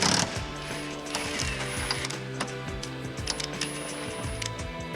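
Impact wrench spinning out 18 mm bolts on a BMW M5/M6 S85 engine, a steady rattling whir with several ratcheting bursts over a continuous mechanical hum, close and loud throughout, no talk.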